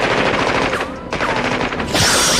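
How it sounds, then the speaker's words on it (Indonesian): Gunfire in a RoboCop shootout crackles as rapid bursts of machine-gun shots, dense and loud, with a brief lull before another volley and a sharp, bright blast at the end. "Tembak-menembak antara keduanya tak terhindarkan."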